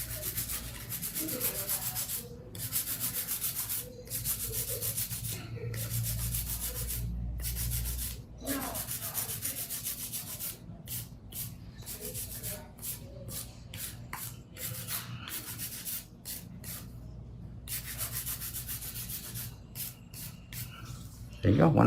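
Steady raspy sanding drone with brief pauses, a motorized sanding band filing acrylic nails, grinding continuously up close while a voice talks intermittently over it.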